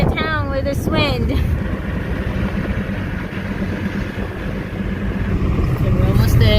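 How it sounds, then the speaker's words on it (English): Heavy wind buffets the microphone inside a moving car with its windows down on the way to an upground reservoir: a continuous loud, low roar, with voices talking briefly at the start and again at the end. "Right now we're in the car, the windows down, and we're just going to town with this wind."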